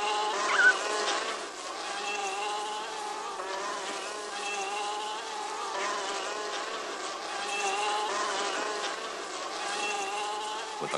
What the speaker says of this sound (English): with more and more bees coming from the hive, the situation is becoming very painful